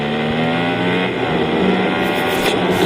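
Steady car engine driving in the online game Madout2 big city, a continuous droning motor with rising revs near the end, loud and close with no voices over it.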